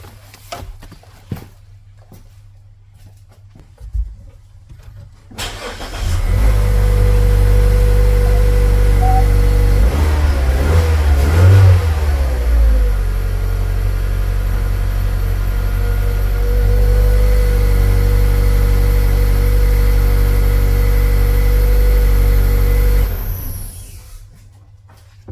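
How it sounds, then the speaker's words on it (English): A Mazda CX-5 engine cranks and catches, then runs at a steady, loud idle for about seventeen seconds with a brief rise early on before shutting off. No one speaks. "Alright, we're going to start the car."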